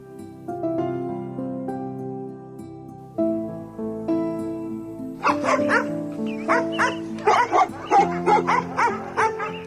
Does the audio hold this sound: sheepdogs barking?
yes